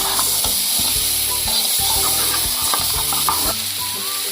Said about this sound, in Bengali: এবার সবগুলো একসঙ্গে নেড়ে নেব